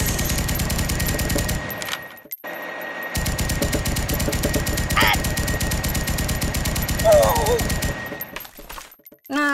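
Rapid machine gun fire rattles loudly in the mobile game Kick the Buddy, long continuous bursts broken by brief pauses, with a cartoonish voice crying out between volleys.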